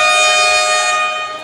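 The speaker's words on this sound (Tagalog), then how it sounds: "Napaka-late ata ng busina." Loud, sustained electronic buzzer horn at a basketball game in the UNTV Cup, a steady harmonic blare that holds for over a second before fading slightly at the end.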